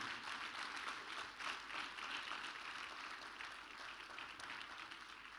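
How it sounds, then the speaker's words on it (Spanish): Continuous applause from a church congregation, steady and fairly even, with no talking over it. "Denle un aplauso al Espíritu de Dios."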